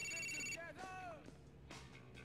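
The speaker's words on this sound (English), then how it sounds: "The phone's ringing." In the video game GTA 4, a telephone rings briefly at the start with a bright electronic trill, followed by a low voice speaking over quiet background sound.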